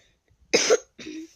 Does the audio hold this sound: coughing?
yes